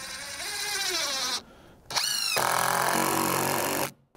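A power drill drives 3-inch screws into exterior wall framing for a DIY cabin, giving three close, loud whirring bursts with rising pitch and short pauses between them.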